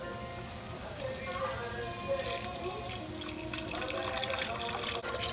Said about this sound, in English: Then we'll add our chicken stock.